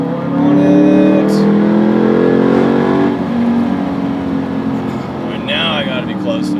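A Ford Mustang engine accelerates hard while chasing a cyclist, its pitch climbing in a loud, close rising howl for about three seconds before easing off into a lower, quieter running note.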